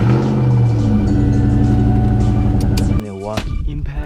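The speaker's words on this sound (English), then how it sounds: "Milwaukee Impact. This thing is really good. It's really powerful." A Milwaukee impact wrench works a wheel on a lowered car, hammering in a loud rapid rattling burst for about three seconds, then stopping abruptly as a shorter follow-up whir trails off.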